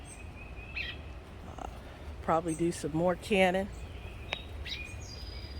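Birds chirp and warble in a fruit-laden mulberry tree in a garden, with a burst of calls in the middle and scattered tweets around it, heard outdoors under a person talking.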